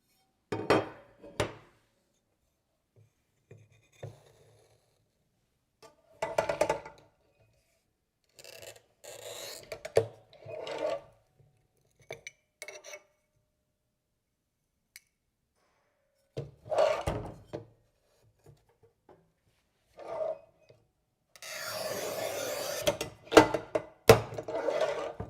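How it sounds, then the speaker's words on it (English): Montolit Masterpiuma P5 tile cutter scoring and snapping glass tile on a rubber mat, heard as separate bursts of scraping, rasping and clacking with quiet gaps between, ending in a longer, louder grinding rub. "The same rubber mat could be very useful to cut glass tile like this."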